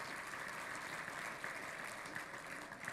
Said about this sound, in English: let's clap for everyone who's either like bought the ticket for tonight or has those VIP tables